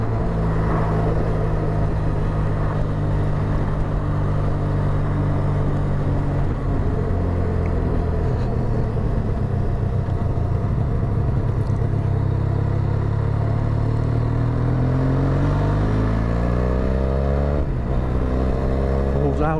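A 2023 Benelli 502TRK adventure motorcycle drones steadily as it is ridden and accelerated out of a corner, its engine note rising in pitch near the end, with wind noise and a rider talking over it.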